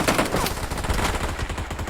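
Rapid gunfire from the mobile battle royale game PUBG Mobile, loud dense bursts of shots crackling one after another across the whole stretch.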